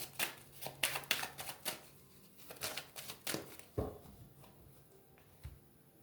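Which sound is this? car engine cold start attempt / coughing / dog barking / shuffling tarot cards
shuffling tarot cards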